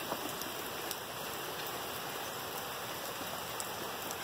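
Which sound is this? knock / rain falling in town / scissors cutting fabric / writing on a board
rain falling in town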